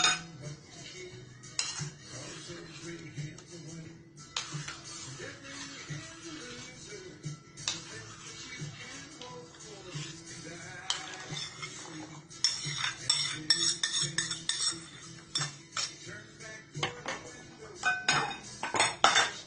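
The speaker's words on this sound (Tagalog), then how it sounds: "min-mix po natin hanggang siya ay mag-creamy." Butter is mixed until creamy for chocolate chip cookie dough, with a utensil scraping and clinking steadily against a bowl, soft and busy throughout, growing a little louder and more rapid toward the end.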